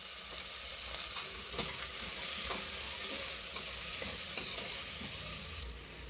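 Onions fry with salt and turmeric powder in a pan, giving a steady close sizzle with soft scraping and stirring throughout, and no voices.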